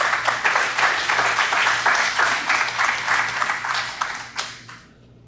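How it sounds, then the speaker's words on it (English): An audience claps at a graduation ceremony for incarcerated dog trainers in C-Yard at Mule Creek: dense, lively applause that holds steady for several seconds, then thins and fades out near the end. "One more round of applause."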